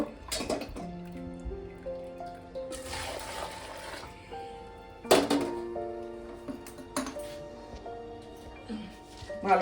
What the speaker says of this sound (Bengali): এবার আমি ছানাটা ভালো করে জল দিয়ে একটু ধুয়ে নেব যাতে টক ভাবটা না থাকে